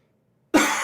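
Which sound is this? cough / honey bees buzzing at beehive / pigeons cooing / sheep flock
cough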